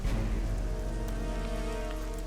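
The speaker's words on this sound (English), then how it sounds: "it is indeed now raining and horrible" Rain in The Witcher game falls steadily, a dense, even hiss with a low rumble, filling the whole stretch with no other sound.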